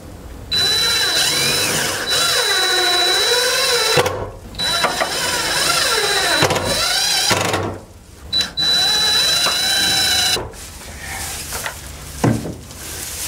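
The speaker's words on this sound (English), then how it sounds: "So I have my drill, I have some screws." A power drill whirs in several bursts of a few seconds each, pitch rising and falling as it drives screws to mount a wifi camera in a barn, with short pauses between.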